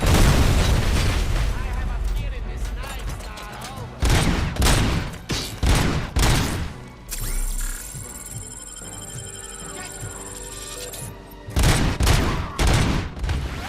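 Video game gunfire in RoboCop: Rogue City, with enemies shooting from above in bursts of rapid shots and booming impacts, loud and dense, with quieter gaps and electronic tones between volleys and a voice talking over parts of it.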